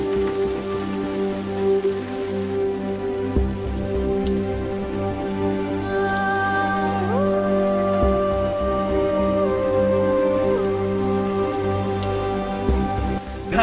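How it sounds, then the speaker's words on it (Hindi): Steady rain patters on a surface throughout, a dense constant hiss that sits beneath sustained droning tones. "बारिश हो रही है"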